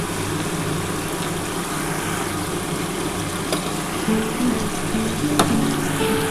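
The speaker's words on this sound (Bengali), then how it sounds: "এই যে মাছগুলো আমি দিয়ে দিলাম" Katla fish pieces drop into a pan of boiling water, setting off a steady bubbling sizzle with faint stirring and clinks, alone at moderate loudness.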